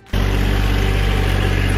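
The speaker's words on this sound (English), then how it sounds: "I turned on the camera right as Shawn was driving by with the tractor." A tractor on a farm, its engine starting abruptly into a loud, steady, low rumbling drone very close by, with no talking.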